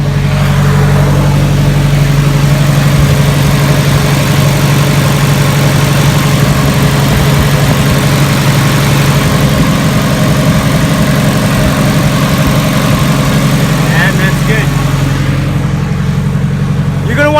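A Nissan SR20DET engine idles steadily and loudly right after a new fuel hose install, with a constant low rumble up close and no talk over it.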